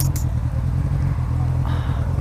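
A Honda CB1000 motorcycle idles with a steady, low, rumbling engine drone that holds close and even throughout.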